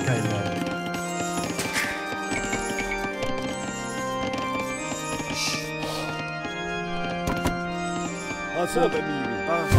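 Steady clip-clop of horse hooves in Age of Empires II: Definitive Edition amid a busy game soundscape with music and voices layered over it, rhythmic and continuous throughout.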